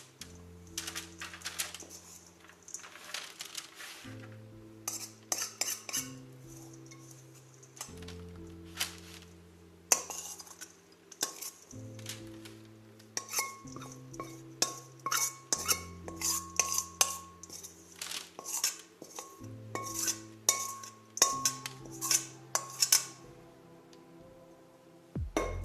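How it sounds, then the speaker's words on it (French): Homemade cereal mixture is scraped and poured from a bowl onto a baking tray, giving scattered close clinks and rattles over steady background music. "Et je verse sur ma plaque."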